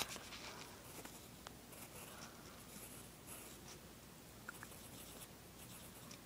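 A pen or pencil scratches across paper as a simple spider shape is drawn, soft scribbling strokes coming in short bursts, close but very faint, with a few light taps and rustles.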